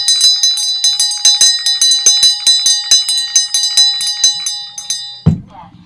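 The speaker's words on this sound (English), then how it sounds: "With the ringing of this bell, we lift the veil twixt heaven and hell." A small hand bell rings rapidly and continuously during a séance, its bright metallic peals coming close and loud for several seconds before stopping with a soft thump.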